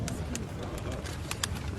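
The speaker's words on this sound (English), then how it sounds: "The release of the pigeons signifies peace and a new dawn." Pigeons being released outdoors at a ceremony marking peace, with scattered coos and brief wing flutters over steady crowd murmur and background talk.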